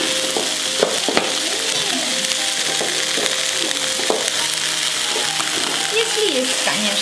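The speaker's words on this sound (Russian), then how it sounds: "Сейчас чечевицу добавлю." Lentils tipped into a hot frying pan while stuffed peppers are being cooked, a loud continuous sizzle with stirring scrapes and clinks throughout, with occasional faint voices in the background.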